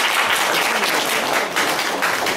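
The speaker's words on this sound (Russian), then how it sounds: "аплодисменты" Dense, loud audience applause fills a cultural centre hall after a veteran is honoured at a concert, a continuous roar of many hands clapping close by without a break.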